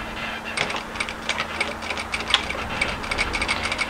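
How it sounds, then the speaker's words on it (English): Domestic sewing machine stitching a wrap cardigan seam, a steady, rapid mechanical ticking and whirr close by, running continuously without pauses. "And we're going to sew at 1 centimeter"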